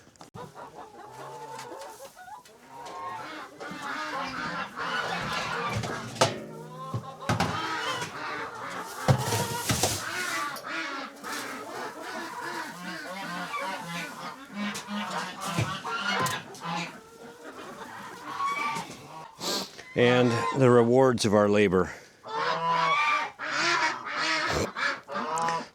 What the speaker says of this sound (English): Sorry about the ducks and geese on the other side.